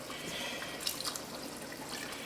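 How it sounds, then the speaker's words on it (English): Water added to a pot of Jamaican corn soup, a soft, steady trickle and splash running quietly under low kitchen background noise. "now I'm going to add in about a cup of water"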